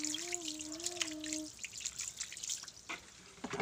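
Water pours and drips while herbal scrub of fresh Thai herbs is rinsed off legs, a close trickling splash with scattered drips; a brief hum-like tone sounds in the first second and a half.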